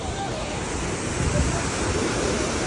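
Waterfall in Kumrat Valley, Swat, a dense, steady roar of rushing water heard up close, loud and unbroken throughout.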